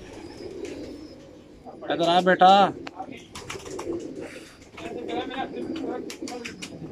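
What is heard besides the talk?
Kamagar pigeons cooing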